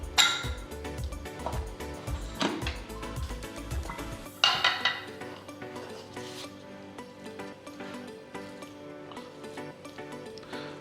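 A pressure cooker lid clanks open and cooked rice is stirred and scraped with a utensil, giving close metallic knocks and soft rubbing, busier at first and then quieter.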